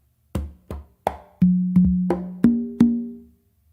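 Combined conga phrase of eight strokes in quick succession: dry, sharp slaps mixed with sustained, ringing open tones on the tumba. Close and clean, with no voices.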